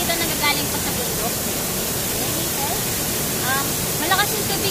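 The strong rainy-season flow of San Ysiro Falls in Antipolo, Rizal, makes a dense, unbroken roar of rushing water. Faint voices and small sounds surface briefly over the steady torrent.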